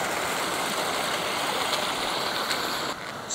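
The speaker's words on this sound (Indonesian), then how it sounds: "Ada aliran sungai" A river stream runs along the bottom of a deep valley on Merapi, giving a steady, close broadband rush of flowing water with no voices.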